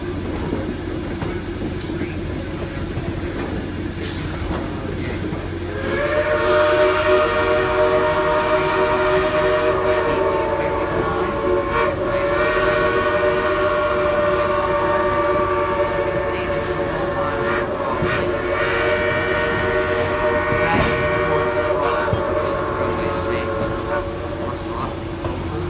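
A CSX freight train rolls past on the rails in a steady, loud rumble, with a squealing wheel tone that rises about a quarter of the way in and holds, and faint voices in the background.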